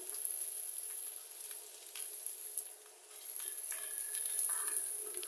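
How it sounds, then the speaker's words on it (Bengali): Potatoes fry steadily in hot oil, cooked before going into a banana flower dish: a continuous soft sizzle and crackle close by, with no voices, dipping briefly midway and then rising again. "আলুটা ভালোভাবে ভাজতেছি"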